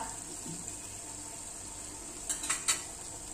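Prawn pickle stirred in a pan, a faint steady sizzle with a few soft scraping and clinking stir sounds near the end.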